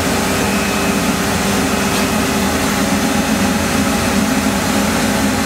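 A Citizen A20 Swiss-type CNC lathe runs its slides and ball screws, a loud, continuous broadband whirr and hiss with a faint whine, steady throughout with no talk.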